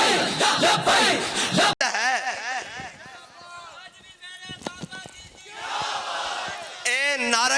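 A large crowd chants the religious slogan Labbaik Ya Rasool Allah at a rally, the loud massed voices rising and falling in repeated rhythmic bursts with a brief break partway through.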